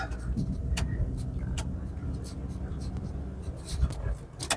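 A car pulls away uphill on a driving exam route in Mykolaiv, its low engine rumble steady and close, with clicks and handling noises inside the cabin.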